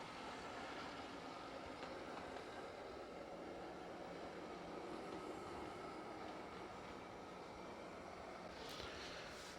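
A vintage Athearn blue-box Union Pacific model switcher locomotive, newly fitted with DCC, runs steadily, giving a continuous close whirring rumble with no pauses and no voices.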